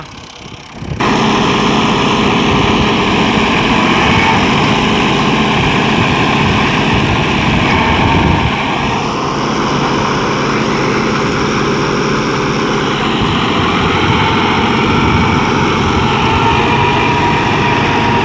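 A tractor pulling a rotavator drones loud and steady at close range, a continuous heavy hum with a slight shift partway through and no voices.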